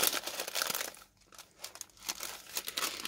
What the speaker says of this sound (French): Là, on a un papier qui a l'air d'être un emballage.